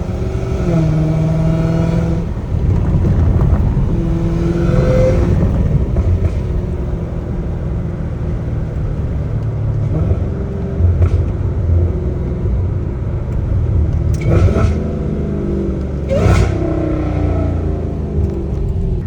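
Supercharger whine from a Dodge Challenger Hellcat Redeye, a sustained high-pitched whir riding over engine rumble, with rising and falling revs and a few sharp bursts toward the end.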